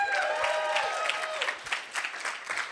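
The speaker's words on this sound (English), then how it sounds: "give him a round of applause" A conference audience claps briefly after a speaker's introduction, a short patter of applause that starts strongly and thins out, with some voices mixed in underneath.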